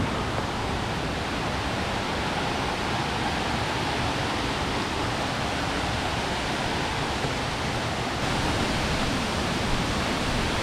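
Kadamagundi waterfall in Karnataka roars in a steady, dense broadband rush that stays loud and unbroken throughout, rising slightly near the end, with no voices.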